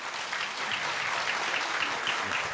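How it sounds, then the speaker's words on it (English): Dense applause from an audience honoring boxer Miguel Cotto at a Hall of Fame presentation in Canastota, a steady wash of many hands clapping at moderate distance throughout. "I think we should give a round of applause for what he went through."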